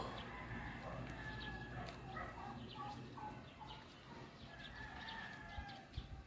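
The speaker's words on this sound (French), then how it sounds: "Une dinde." A male turkey gobbles in short repeated bursts over a noisy outdoor background, with farmyard fowl nearby and occasional talk.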